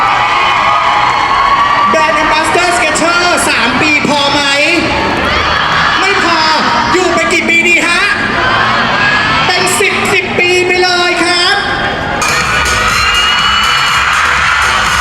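Crowd cheering and screaming for Cha Eun-woo at a Skechers store grand opening, loud shrill shrieks and whoops rising and falling continuously, with scattered claps and a voice over a PA heard through the din.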